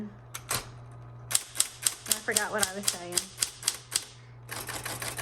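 Clicks and clacks from a 1960s Smith Corona Electra 110 electric typewriter, metallic gray, in a fast run of sharp, close keystrokes over a steady motor hum, with a pause where someone speaks briefly before typing resumes.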